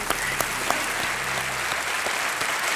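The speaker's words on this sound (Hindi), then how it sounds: "यहाँ तालियां बज रही हैं आपके लिए" A studio audience on a quiz show applauds a contestant who has just won a lakh rupees, giving sustained, dense clapping at moderate level over a faint low hum.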